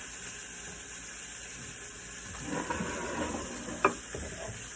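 Slices of plain white bread soaked in cinnamon French toast batter meet a hot pan, bringing a soft sizzle that swells from a quiet start, with a sharp scrape or tap near the end, close by and without talk.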